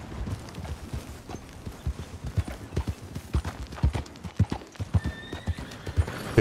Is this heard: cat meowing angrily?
no